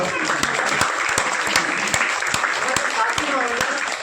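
An audience at a Teacher's Day event in a coaching class claps loudly and steadily for a performer, the dense applause filling all four seconds with no break.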